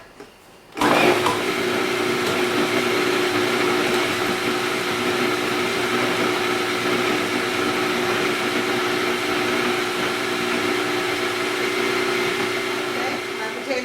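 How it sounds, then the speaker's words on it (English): A food processor chops potatoes for potato pancakes, switching on abruptly and then whirring at a loud, steady motor pitch for more than ten seconds without pause. "I'm going to put them through the processor, which will take a minute."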